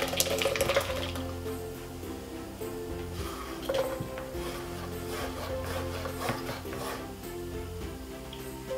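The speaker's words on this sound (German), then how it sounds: "das müssen wir jetzt alles durch das Sieb" Berry liqueur mixture poured through a sieve while making it in a Thermomix TM5, a steady liquid trickle and splash running continuously, fairly close, with some clinking in the background.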